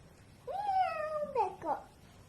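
A small child imitates a cat's meow with a drawn-out, rising-then-falling vocal mew, followed by two short voiced syllables, close and clear.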